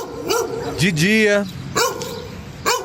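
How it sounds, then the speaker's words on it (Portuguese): A pitbull barking at a construction site in Samambaia, Federal District, Brazil, a few loud close barks and whining yelps in bursts while a news narrator talks over them. "Imagina um pitbull latindo dia e noite sem parar"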